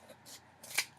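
Scissors cut a piece of newspaper print in two or three quick, close snips with crisp papery rasps and quiet pauses between them.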